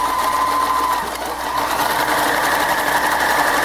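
A Kenmore zig-zag free-arm sewing machine stitching cloth gives a loud, steady motor whir with a fast needle rattle that runs unbroken, dipping only briefly, and no voices over it.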